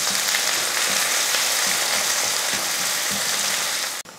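Small onions and curry leaves sauté in oil after fenugreek for a South Indian kuzhambu, giving a constant broadband hiss of frying with faint soft stirring knocks underneath and a brief drop at the end.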